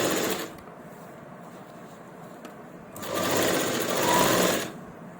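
A sewing machine stitches a shirt collar in short bursts, loud and close, with a quieter pause between two running stretches and no talking.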